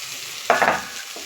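Kuthu egg parotta tossed and stir-fried in a hot pan, giving a short loud scrape and sizzle burst over a steady frying hiss, with no voices.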